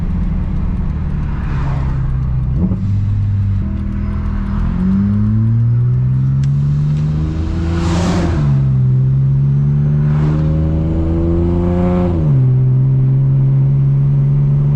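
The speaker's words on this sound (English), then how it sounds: "So I'm gonna try and downshift and just see if the car's happy getting into gear." Boosted Acura TL-S engine with a separate throttle body, revving loudly through repeated downshifts, each blip rising and falling in pitch over a steady drone heard from inside the car.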